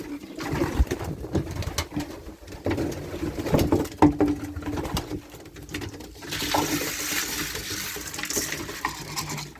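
Pigeons coo and shuffle about while feeding at a loft, with soft wing flutters, scratchy movement and occasional small knocks, fairly close and steady, brightening into broader rustling toward the end.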